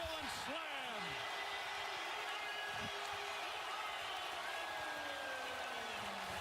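Arena crowd at an NBA Finals basketball game roars in a steady, sustained wash after a slam dunk, with a commentator talking over it.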